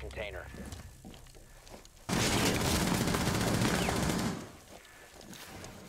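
Sustained burst of automatic gunfire fired from a window in Rainbow Six Siege, loud and dense for about two seconds, with scattered shots and faint movement before and after.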